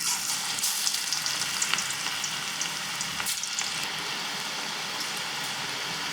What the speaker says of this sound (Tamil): இப்போ இதை வந்து நம்ம கடலை எண்ணெயில் போட்டு எடுத்துடலாம்.